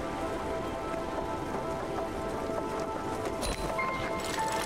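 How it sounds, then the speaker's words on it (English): Steady rain falls in the video game Spiritfarer, a dense even hiss of drops on surfaces with a few faint tones over it, no talk. "We're gonna go through rain, I think."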